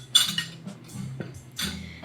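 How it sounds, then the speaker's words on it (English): A utensil scrapes and clinks against a bowl while vinegar is stirred into warm sushi rice for shrimp tempura rolls, a few close, light, uneven knocks and scrapes. "We'll take that and we'll mix it into our rice."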